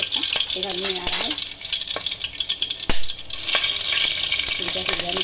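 Bay leaf, cloves, black pepper and cinnamon sizzle in hot oil reused from frying raw banana kofta, a steady crackling hiss with occasional stirring clinks, close and continuous.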